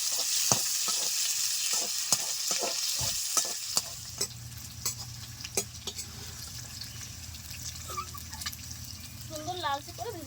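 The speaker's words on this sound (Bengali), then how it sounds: "আমি তবুও একটু আলুর সঙ্গে আরেকবার ভেজে নিচ্ছি" Prawns, already fried once, crackle again with potato pieces in a hot pan, a steady close sizzle broken by sharp stirring clicks and scrapes, with faint voices nearby.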